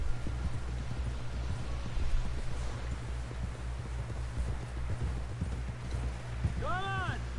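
Steady horse hooves clip-clop at a walking pace under a low ambient background in Red Dead Redemption 2, with a brief whinny near the end.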